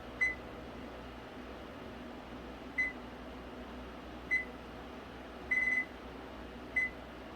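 Five short electronic beeps from an oven timer being set, spaced irregularly over a low steady room hum, with the last few coming as quick clusters.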